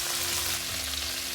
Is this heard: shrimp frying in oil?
yes